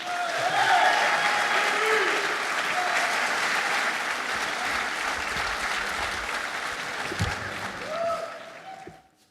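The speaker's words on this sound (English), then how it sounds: "Give him a round of applause." A graduation audience gives sustained applause for a guest speaker, a broad, dense clapping roar with a faint voice or two underneath, holding steady before dying away sharply at the end.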